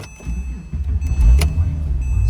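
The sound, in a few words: 2006 Porsche 911 engine starting up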